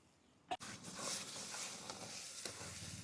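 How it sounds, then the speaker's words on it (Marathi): Curd being stirred into a sizzling coconut-peanut gravy with soaked peanuts in a pan, a steady close frying hiss with soft scraping, preceded by a brief sharp clatter. "व्यवस्थित दही मिक्स करून घेऊ आपण"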